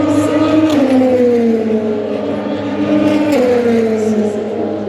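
A race car engine holds a steady, loud tone with a slight falling pitch as the car takes the last corner in qualifying for the Le Mans 24 Hours. A commentator's voice runs over it throughout.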